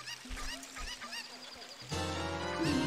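A cucco chicken in the video game Zelda: Ocarina of Time gives several short, honking clucks over a low hum, then bright game music swells in for the last second.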